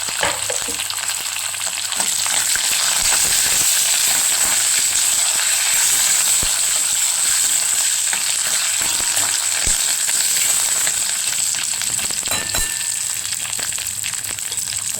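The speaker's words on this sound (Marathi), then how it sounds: "तर शेंगदाणे भाजून झाले, बाकीचे जिन्नस पण भाजते." Curry leaves, cashews and peanuts roasting in hot oil, a loud, continuous hissing sizzle with occasional faint stirring clicks throughout, no speech.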